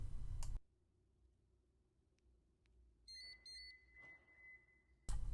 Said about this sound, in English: Pressing unlock will unlock the doors with two confirmation beeps on the remote